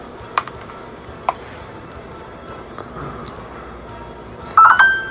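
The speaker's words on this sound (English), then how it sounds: "Twitter notifications." A phone plays Twitter notification sounds, a quick burst of short chirping tones near the end after a quiet stretch with a couple of faint clicks.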